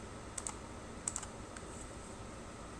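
Sparse, faint clicks of keys being typed on a computer keyboard, a few light taps in small clusters over a quiet background hiss.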